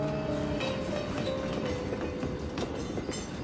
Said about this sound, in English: it was time for them to take their opening train